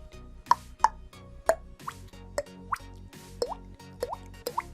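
A voice imitates water drops by clicking the tongue, producing about a dozen crisp, hollow plops in a loose, steady rhythm, close and clear over faint background music.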